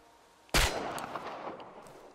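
A single loud gunshot fires in the Chernobylite survival horror game, with a sharp crack at once followed by a long echoing tail that fades slowly.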